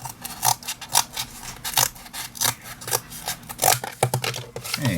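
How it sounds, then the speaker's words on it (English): Scissors cutting out a shape for an art project, heard as close, crisp snips repeated in a quick, slightly uneven rhythm with no talking. "Okay, then I cut down the shape this way, and I cut down the shape this way."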